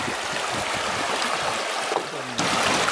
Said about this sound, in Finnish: Hieno koski.